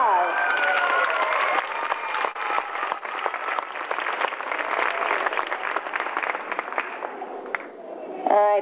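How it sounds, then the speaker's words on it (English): An audience applauds and cheers for the boys being honoured at an event, a dense, steady wash of clapping with shouts mixed in for about eight seconds, ending as someone begins to speak. "Give them a round of applause."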